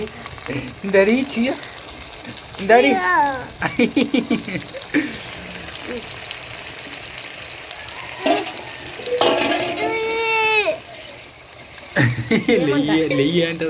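Chicken pieces go into a pan of frying curry, giving a steady sizzle and stirring scrape with voices talking and laughing over it throughout.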